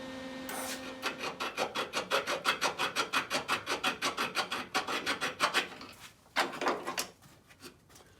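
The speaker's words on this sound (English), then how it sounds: "we're just filing it round again so that the pin goes in without any slop" A hand file rasps back and forth in steady, rhythmic strokes, rounding out a welded-up, worn oblong hole in a part for a 1985 Pontiac Trans Am L69, close and moderately quiet, with a brief pause and a few stronger strokes near the end.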